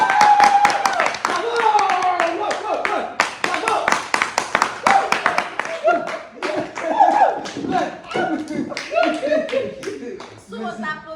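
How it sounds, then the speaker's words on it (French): At a trophy ceremony in Parakou, scattered hand claps sound close and loud in uneven bursts, mixed with voices and chatter throughout. "Sous vos applaudissements"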